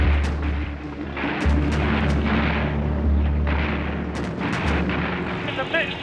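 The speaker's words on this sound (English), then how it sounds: "are battered by heavy anti-aircraft fire" Heavy anti-aircraft fire near Antwerp, Belgium, targeting a bomber crew: repeated dull booms and bursts punctuate a continuous droning rumble, with sharp cracks recurring every second or so at moderate loudness.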